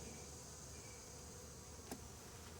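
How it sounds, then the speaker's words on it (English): A dense, steady buzz of many bees on a honey-filled hive frame hums continuously, close by, with one brief tap partway through. "you can see all the bees on that frame full of honey"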